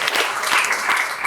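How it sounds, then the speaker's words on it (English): Audience applause at a community forum on Prop 36 and the war on drugs, a brief burst of moderate crowd clapping throughout. "You guys can clap if you want"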